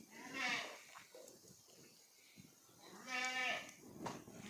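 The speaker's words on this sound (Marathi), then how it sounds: "शेळ्यांचा बकर पाजायचा टाइम झालाय तर सारखी आवाज देऊ राहिली" Goats calling to feed their young kids on a farm, with two loud, wavering bleats a few seconds apart over faint background noise.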